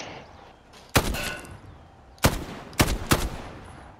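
Sharp, loud gunshots in a video game shootout: one crack, then a pause and a quick cluster of three more shots, close and punchy with short decays and almost no talk.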